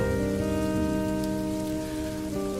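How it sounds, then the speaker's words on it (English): Heavy rain from an atmospheric river pours down steadily during a night drive, a dense continuous patter heard close, with a low steady hum underneath and no talking. "The rain was heavier"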